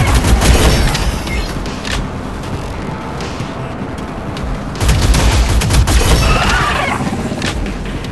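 Gunfire in the shooter video game Shadowgun Legends, with loud rapid bursts of shots and booms in two dense clusters separated by a quieter stretch, and no talk over it.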